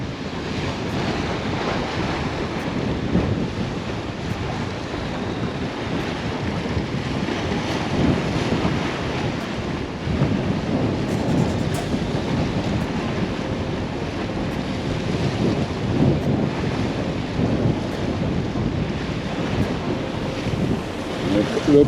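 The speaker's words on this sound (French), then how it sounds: "Il y a du vent, hein." Strong wind blows across a seaside jetty during surf fishing, a steady loud roar with gusts and crashing surf underneath, continuous throughout.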